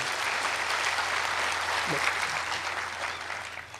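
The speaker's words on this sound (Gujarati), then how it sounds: "એના માટે જોરદાર તાળી પાડો" A live audience at a humorous motivational talk gives loud, sustained applause that fills the whole stretch evenly, with a brief voice poking through midway.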